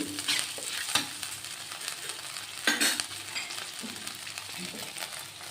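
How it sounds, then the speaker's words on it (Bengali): Ginger, cumin, green chillies and bay leaf sizzle in oil with a spice paste for a vegetarian pointed gourd, potato and soya curry, with steady frying and occasional scrapes of a spoon stirring the pan. "আদা জিরে দুটো কাঁচা লঙ্কা দিয়েছি, তেজপাতা। এইভাবে নেড়ে"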